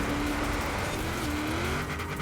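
A V8 race car in a video game growls loudly and continuously, with a slight rise in pitch as the engine works, heard alone without talk.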